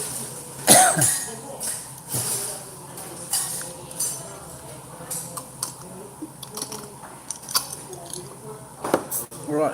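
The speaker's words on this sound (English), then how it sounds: "Cough time." A single sharp cough near the start, followed by scattered clicks, rustles and mouth noises in a quiet room.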